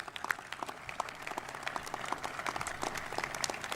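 Applause rises from an audience at an outdoor ribbon-cutting ceremony for the Atlanta Public Safety Training Center, with moderately loud, scattered claps that grow denser and hold steady.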